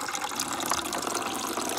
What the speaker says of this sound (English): Here's your water, Mr. Persia.